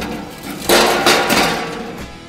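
Lump charcoal, about 1.5 kilos, is poured into an offset smoker firebox: a sudden loud clattering rush of pieces tumbling onto metal, in two or three surges that gradually taper off.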